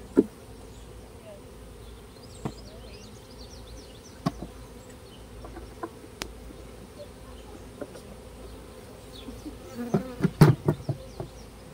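Honeybees buzz around a swarm cell in a backyard hive, a steady close drone dotted with sharp knocks and clicks, with a cluster of louder taps near the end.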